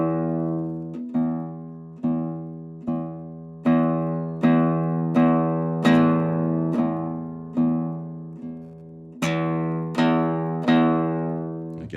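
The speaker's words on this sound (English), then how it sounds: "that's the way you get a lot of volume from finger picking and picking the strings" Acoustic guitar fingerpicked loudly, single plucked notes struck about once a second, each ringing bright and decaying before the next, close and clear with no voice.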